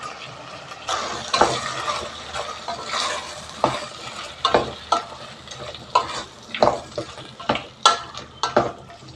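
Large cucumber pieces tossed with potatoes in a hot frying pan for a curry, a soft sizzle broken by repeated sharp spatula scrapes and knocks against the pan, close and uneven in rhythm, without talk.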